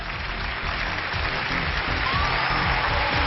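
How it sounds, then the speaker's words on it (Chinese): Studio audience on a relationship talk show claps in a dense, continuous wash of applause, steady and fairly loud throughout, with no voices standing out. "掌声有请"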